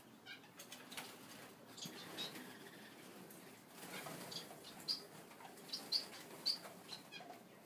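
Birds including a dove and parrots, with sharp high chirps and a few bright calls in the second half over a soft rustle of flapping wings and steady background chatter.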